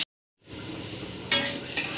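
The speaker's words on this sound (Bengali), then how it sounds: "আর এতে দিয়ে দেবো শিমলা মির্চি। এগুলো একটু ভাজা করে নেব।" Green chillies and capsicum, lightly salted, sizzle steadily in a hot pan after a brief moment of silence, with two short scraping stirs breaking through the close, even frying hiss.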